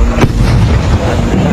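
Loud, dense booming and crackling of fireworks fill the clip, with a sharp burst near the start and a steady rumble throughout.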